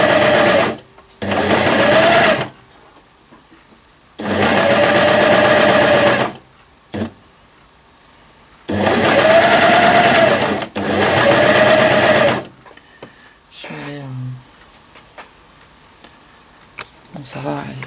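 Janome Cover Pro CPX 2000 coverstitch machine sewing in loud, steady whirring runs of a few seconds each, separated by short silences, with a person speaking near the end.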